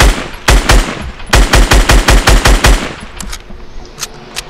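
In a battle royale video game, loud rapid bursts of automatic gunfire crack out in a tight, rhythmic string of shots, then fall away to a few fainter, more distant pops.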